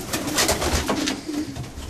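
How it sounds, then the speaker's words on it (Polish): Racing pigeons coo steadily in a close, enclosed loft, soft throaty calls overlapping with no one speaking. "Tu są też sparowane już gołębie."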